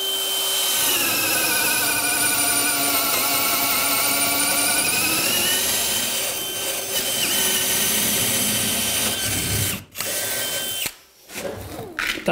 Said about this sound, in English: With this drill, you can drill a hole really quick.